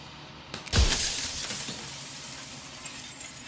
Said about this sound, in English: shards of broken glass